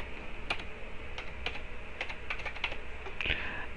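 A computer keyboard clicks steadily as a date is typed into a calendar field in Crystal Reports 2020, the keystrokes close and fairly soft over a low hum.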